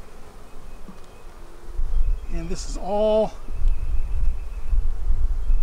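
Honey bees hum in a steady, close buzz around an open Bee Castle hive during queen installation, and someone briefly speaks over the drone partway through.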